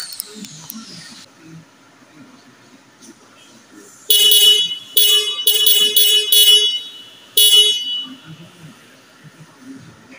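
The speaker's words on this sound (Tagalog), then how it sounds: "Ayan, nakakinig nyo na yung busina. Single busina lang yan mga boss, yung stock." The stock single horn of a Toyota Wigo gives several short honks close by, then one longer blast, amid quiet clanking and workshop sounds.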